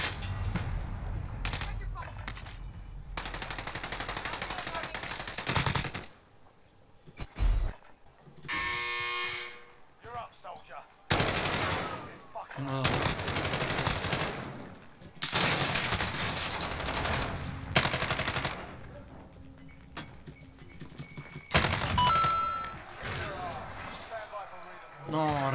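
Gunfire in Warzone, with an AUG rifle in play, comes in repeated rapid bursts separated by short silences across the clip. The bursts are fairly loud, and people talk between and over them.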